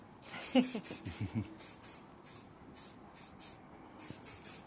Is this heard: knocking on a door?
no